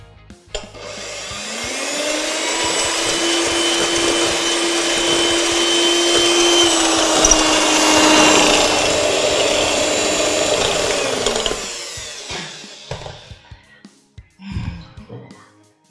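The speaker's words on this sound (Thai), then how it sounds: "เดี๋ยวเราจะมาตีไข่แดงแล้วก็น้ำตาลนะคะจนกลายเป็นสีเหลืองค่ะ" An electric hand mixer beats egg yolks with sugar for a banana cake, whirring loud and steady for about ten seconds before switching off, followed by faint bowl clinks.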